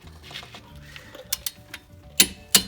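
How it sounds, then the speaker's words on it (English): Torque wrench set to 80 foot-pounds clicking as it tightens front brake caliper bolts on a 2005 Honda Pilot, with two sharp metallic clicks near the end over faint, quieter ticks and shop background. "With a torque wrench set to 80 foot-pounds, we're going to torque these caliper bolts."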